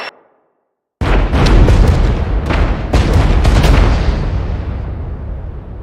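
Explosion sound effect from a first-person shooter game, a loud booming blast that hits suddenly after a second of silence and rolls on with a rumbling, crackling tail of debris for several seconds.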